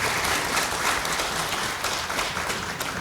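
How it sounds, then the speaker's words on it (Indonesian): An audience at an open doctoral defense at IPB University applauds a professor, a steady, dense wash of clapping that holds at an even level throughout. "Tepuk tangan untuk Profesor Ekowati"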